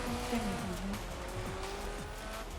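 A car in the racing game Forza Horizon 4 drives with a steady engine drone and repeated squealing tires, continuous and moderately loud, with someone talking faintly underneath.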